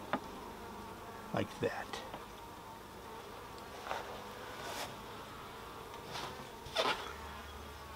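Honeybees hum steadily as the hive lid is lifted during a beekeeping inspection, a constant close drone with a few short knocks and scrapes, and a brief spoken phrase.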